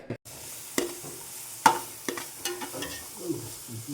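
Garlic-ginger paste is stirred in a hot pan for chicken, with soft sizzling and a few sharp scrapes and clacks of the spoon against the pan, close by and fairly quiet.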